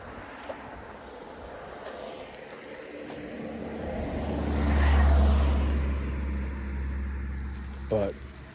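A car drives past outdoors at Pretty Marsh in Acadia National Park, its engine and tire rumble swelling to a close pass and fading again, with a voice speaking.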